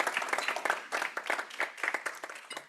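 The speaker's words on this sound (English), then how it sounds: "A big round of applause for her once again." An audience at an international health and education conference gives a round of applause: brisk, moderately loud clapping from a mid-sized room that rises in uneven bursts and then tails off.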